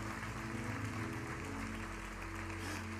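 A church congregation applauds together in praise at a pastor's call, the clapping steady and dense across the whole stretch, with music or organ tones sustained underneath.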